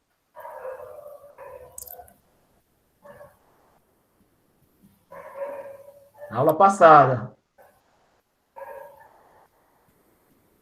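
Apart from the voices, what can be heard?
dog barking during a lesson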